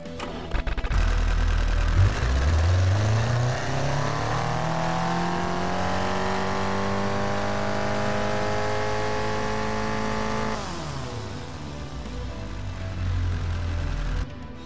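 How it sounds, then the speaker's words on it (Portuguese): A naturally aspirated, carbureted 82 hp car engine in the game Automation idles, then revs up with a rising whine that holds steady before dropping back to idle, loud and continuous with no talking. "É um motor com 82 HP, 11 kg de torque. Vamos ouvir ele aqui"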